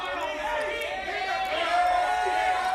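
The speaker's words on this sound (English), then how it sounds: "The crowd is chanting ace" Crowd at a WPT Legends of Poker final table chanting "ace" in a steady massed vocal roar across the room, with overlapping voices sustained throughout.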